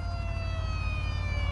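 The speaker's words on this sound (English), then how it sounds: "That's the sound of electricity and water mixing right now." Steady electrical hum from electricity arcing into water in the Prison Architect game, a continuous buzzing drone with stable tonal layers that holds evenly for the whole stretch.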